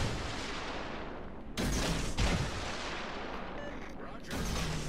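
Heavy naval gunfire in a warship combat video game, with a dense continuous rumble of shots and two sharper, louder bursts of firing breaking through near the middle and the end.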